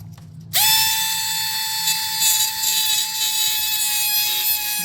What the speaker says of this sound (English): to cut it out with the Dremel.